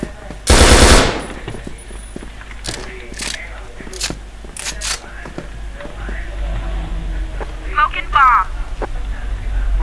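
Rapid gunfire in an online multiplayer shooter game, a loud burst up front followed by scattered shots near and far, with players talking over the action.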